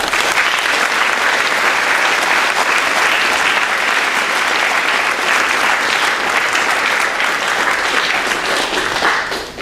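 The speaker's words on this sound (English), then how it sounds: "Please join me in recognizing their support with a well-deserved round of applause." Audience applause at a school convocation ceremony, Cincinnati Country Day: a sustained dense round of clapping from a large crowd, loud and continuous for about ten seconds before tapering slightly at the end.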